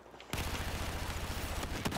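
A burst of gunfire in the video game Battlefield 4, a sudden loud rattling volley that starts abruptly and keeps going for under two seconds.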